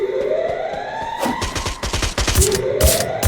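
Rapid bursts of gunfire in a video game battle, loud and dense, mixed with a rising siren-like tone and other game effects.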